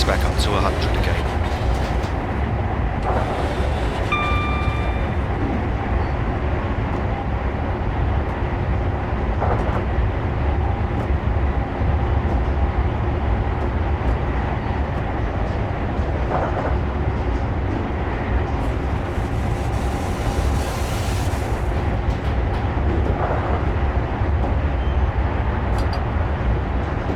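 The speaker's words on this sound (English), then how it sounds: "let the train coast back up to 100 again" Video game sound of an HST train in Train Simulator 2015 coasting steadily along rails between Bristol and Exeter, low rumbling with faint rhythmic clatter and occasional brief tones, a steady drone throughout.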